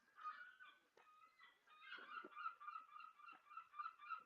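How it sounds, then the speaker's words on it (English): Distant seagulls call over and over in the background, a faint chorus of honking, overlapping squawks that stays quiet throughout. "Can you hear the seagulls in the background?"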